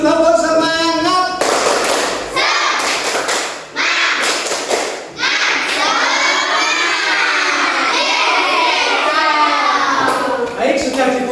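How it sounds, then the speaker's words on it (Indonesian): Schoolchildren in a classroom perform a rhythmic group clapping chant, loud and near, with bursts of sharp claps and thuds mixed with shouted chanting voices throughout. "ayo tepuk semangat dulu, tepuk semangat"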